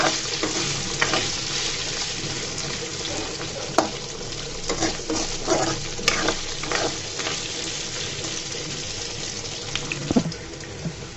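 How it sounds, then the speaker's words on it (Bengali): Steady crackling sizzle of potatoes frying in hot oil, with scattered pops and spits throughout, close and continuous. "আলুগুলোকে আমি এই তেলের মধ্যে ভাজা ভাজা করে নিব।"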